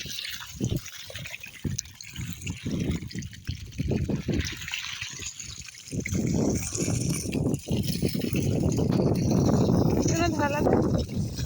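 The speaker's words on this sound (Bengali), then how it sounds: "ওইদিকে আর বাবা জল দিচ্ছে" Water poured out across a watermelon field, a steady splashing gush that grows fuller and louder partway through, with voices talking over it.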